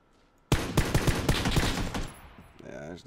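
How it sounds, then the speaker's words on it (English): Rapid burst of automatic gunfire in the battle royale video game PUBG, loud and close, firing in quick succession for about a second and a half before trailing off, with a short voice heard at the end. "Shoot him."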